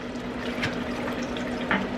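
Water siphoned through a hose from a tank into a bucket, a steady close trickle and gurgle of running liquid with a couple of brief splashy surges.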